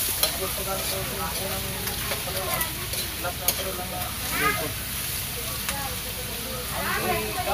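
Cooking oil bubbles and sizzles steadily in a pan, a constant crackling hiss with occasional stirring scrapes, while people talk over it.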